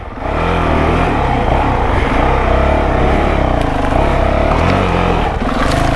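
A 2023 CRF450X dirt bike engine revs loud and close in a sustained, rough drone that holds for about six seconds with slight swells in pitch.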